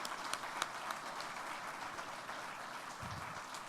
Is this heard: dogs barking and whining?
no